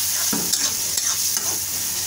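Pasta stirred in a hot frying pan after an egg is added for chicken pasta, with a steady sizzle and a few soft scrapes of the spoon close by, no talking.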